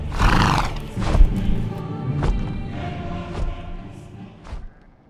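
A great winged horse in the video game Argonus and the Gods of Stone neighs loudly and close, a long whinny followed by thumping hoof sounds and snorts that fade away.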